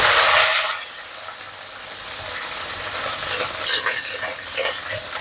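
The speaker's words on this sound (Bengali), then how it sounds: "এবার ভেন্ডিটা ভালো করে ভেজে নেব।" Okra frying in hot oil with black cumin seeds, a loud, close, steady sizzle with bursts of crackling and spatter, stirred now and then.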